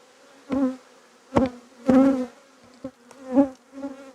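Honeybees at a hive buzz defensively with a hornet nearby, a series of sharp, close buzzing passes that flare up and fade irregularly, each a loud drone swelling then dropping away.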